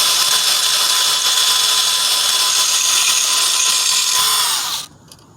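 A drill-powered lawnmower blade sharpener grinds a mower blade with a steady, bright, high-pitched rasp, loud and close, before cutting off abruptly near the end; no one speaks.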